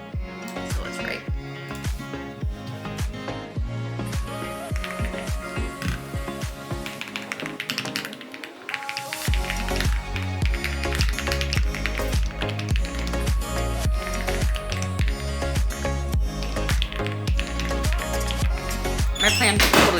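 Rapid keyboard typing taps out a book draft in clustered bursts of keystrokes, with steady music playing underneath throughout.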